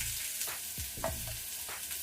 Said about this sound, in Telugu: సిమ్ మీద పెట్టేసి మధ్య మధ్యలో కలుపుతూ మనం వీటిని ఫ్రై చేసుకోవాలి.